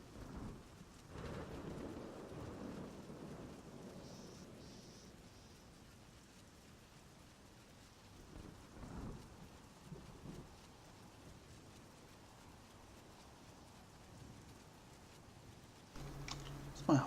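Rain and rolling thunder in the video game Oblivion, a faint steady wash of rainfall with low rumbles of thunder early on and again near the middle, ending with a brief louder sound.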